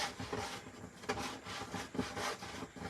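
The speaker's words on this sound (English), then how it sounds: "scrape them up again" Quiet, repeated scraping and rubbing strokes while gathering up materials for a pancake-style wreath, a steady rhythm of short rasping passes, close and faint with no talking.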